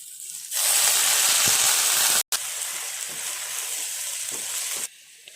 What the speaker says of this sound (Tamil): புதினா இலை சேர்த்து அதை நல்லா வதக்கிக்கலாம்.